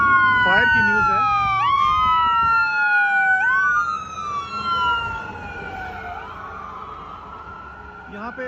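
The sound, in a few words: fire brigade siren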